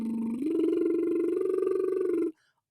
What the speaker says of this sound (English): pick either tongue trill